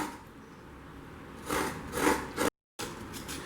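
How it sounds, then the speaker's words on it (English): A coconut is scraped on a traditional kantne or kuroni scraper, giving rough, rasping strokes that swell in a few short bursts, followed by a brief silent gap and then more scraping. "Again scrape it 3 times and turn."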